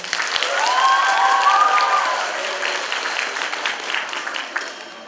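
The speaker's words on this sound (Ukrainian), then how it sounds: "Тож підтримайте юних талантів ручними оплесками." Warm, sustained applause from the audience at a school charity concert by gymnasium pupils rolls on steadily, loud and close, with a brief tonal whoop or whistle rising above it early on.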